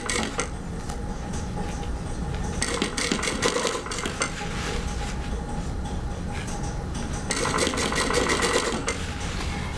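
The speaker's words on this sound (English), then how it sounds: "Few stitches forward, few back, so back tacking." Sewing machine stitching a curved seam in pinned fabric, a steady mechanical whir with rapid needle clatter, briefly pausing and changing as it stitches forward then back to tack the seam, close and continuous without talk.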